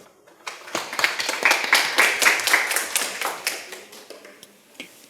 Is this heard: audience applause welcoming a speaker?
yes